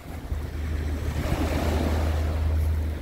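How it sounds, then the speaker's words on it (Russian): Surf washes onto a sandy beach in Alanya, Turkey, a steady close rush of breaking waves mixed with wind buffeting the microphone, with no voices. "Вот такой хороший пляж."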